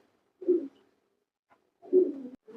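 Two low, soft pigeon coos, one after another, close by in a quiet space.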